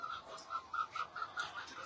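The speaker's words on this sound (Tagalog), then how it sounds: "Ang daming manok, mga idol." Soft, repeated clucking from chickens, a steady run of short calls at low volume with a faint background hiss.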